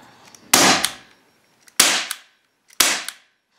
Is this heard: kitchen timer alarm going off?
no